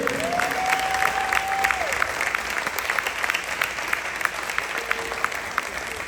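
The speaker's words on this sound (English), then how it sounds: "Give him a round of applause, for real." A school audience at a ring ceremony breaks into steady applause, dense clapping that holds at an even level for several seconds, with a brief tone sounding over it early on.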